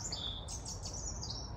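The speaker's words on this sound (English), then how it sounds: "This robin is crazy loud." A robin sings close by, clear high chirps and short whistled phrases repeating over a quiet outdoor background near a lake.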